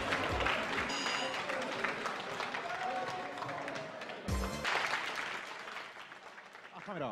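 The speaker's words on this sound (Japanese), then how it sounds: "拍手お願いします。" Audience applause for the winning team at a Japanese competition event, steady clapping from a crowd lasting several seconds with a brief louder burst partway through, heard at moderate distance.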